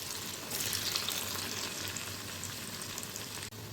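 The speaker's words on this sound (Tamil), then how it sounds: "காலிஃப்ளவர் சேர்த்துக்கலாம். மீடியம் ஃப்ளேமில் வச்சு பொரிங்க." Cauliflower 65 deep frying in hot oil over a medium flame, a steady, even sizzle and bubbling hiss that runs throughout, close and moderately loud.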